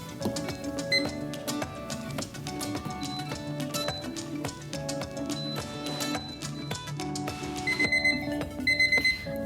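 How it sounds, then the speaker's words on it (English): A kitchen timer alarm beeps in a repeating melodic pattern while air-fryer meatballs cook, fairly loud and continuous, ending in a few rapid higher-pitched beeps. "Our first timer for 8 minutes just went off"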